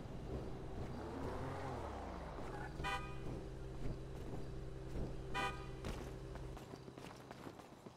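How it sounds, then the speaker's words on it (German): Two short, bright car horn toots sound a few seconds apart in a GTA roleplay video game, cutting over a steady low hum of engine and background noise. "Was hupst du so?"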